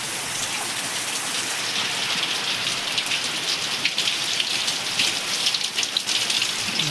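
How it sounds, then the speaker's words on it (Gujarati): Heavy rain with big drops pours down steadily in a residential society, a dense hiss of drops striking surfaces close by, with heavier splatters growing louder toward the end. "છાટા પણ બહુ મોટા મોટા પડે છે હવે"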